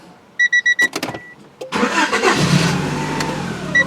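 A 1992 Honda Accord with an intermittent stalling and no-start fault, heard up close. A few short beeps are followed by a brief crank, then the engine catches and settles into a steady running drone, with no voices.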